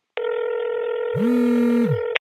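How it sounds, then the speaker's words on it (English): A telephone call connecting: a steady multi-tone dialing signal holds for about two seconds, joined midway by a lower sustained tone, then cuts off cleanly. "we were able to get on the phone with General Manager Rick Baugh over there at Ruidoso Downs"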